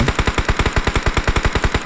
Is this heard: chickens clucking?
no